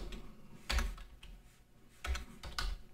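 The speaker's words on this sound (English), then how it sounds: "Helps if I can type." Computer keyboard typing in a few quick bursts of clacking keystrokes with short pauses between, close and moderately loud, no voices.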